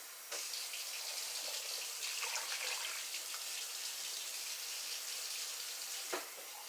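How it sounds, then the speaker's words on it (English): Steady water pouring into a soup pot, a continuous soft rushing stream that stops briefly near the start and again near the end. "About 2 to 3 mugfuls of your water goes into the soup."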